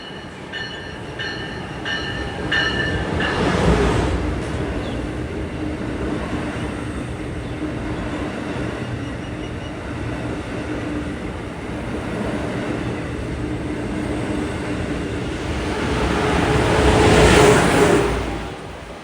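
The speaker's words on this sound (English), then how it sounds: "right behind him is 1442 from Grand Central to South Norwalk" Metro-North New Haven Line trains pass near Greenwich and Stamford, Connecticut, a rushing rumble swelling early, easing through the middle, then building into a second loud pass near the end, with brief crossing-bell tones at the start.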